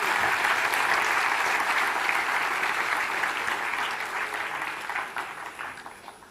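An audience at a convocation ceremony breaks into sustained applause, a dense, even clapping that holds steady before gradually thinning and tapering off toward the end.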